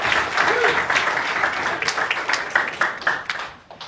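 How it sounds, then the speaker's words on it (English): An audience at a branding summit breaks into applause that starts strong, then thins into scattered claps and fades out over a few seconds. "I'll take that applause, actually"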